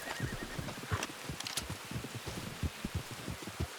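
Horse in Red Dead Redemption 2 on a wild plain near wolves, a bay roan among the herd: repeated hoof clops and snorting over a steady rainy, windy hiss, close and fairly loud throughout.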